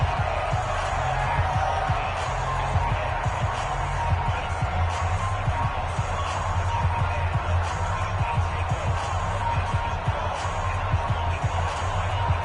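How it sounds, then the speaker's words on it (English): Stadium crowd in a football video game roars steadily throughout as play builds toward a late third down, with a dense, continuous wash of cheering and occasional thumps, fairly loud and sustained. "The crowd getting into it as we come up on a big 3rd down."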